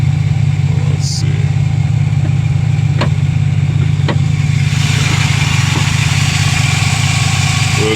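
A PT Cruiser's 2.4-liter four-cylinder with a specially designed intake idles steadily and close by, a loud continuous low drone with a few faint clicks over it.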